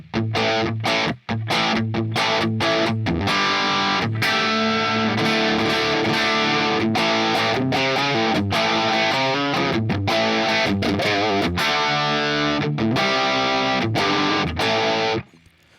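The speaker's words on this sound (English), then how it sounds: "there is a lot of distortion, but it's not crazy saturated. It's just a nice, rock sound" A loud distorted electric guitar played through a Line 6 Helix on the bridge pickup plays chunky rock chords and riffs, gritty but not overly saturated, with short pauses between phrases and no voices.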